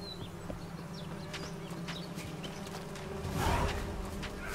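A swarm of bees attacks in The Witcher 3: Hearts of Stone, a continuous close buzzing drone that swells louder toward the end, with faint hoof-like steps beneath.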